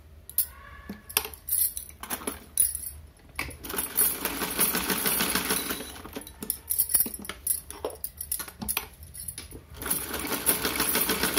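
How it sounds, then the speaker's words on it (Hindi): A sewing machine runs in short bursts, stitching a small Navratri dress for a Laddu Gopal doll, with rapid mechanical chattering that starts and stops repeatedly, broken by brief pauses and light handling clicks. "अब इसके बाद इसको यहां से हम सिल देंगे।"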